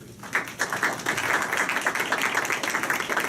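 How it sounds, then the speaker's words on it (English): Audience applause at a lecture event, a dense steady patter of many hands clapping throughout, moderately loud and uninterrupted. "So please give him a round of applause."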